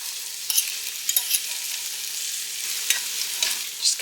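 Ramen noodles stirred in melted butter in a pan, a steady close sizzle with occasional scraping clicks of the utensil against the pan, no talking.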